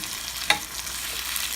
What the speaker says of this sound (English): These potatoes are sauteing in butter and basil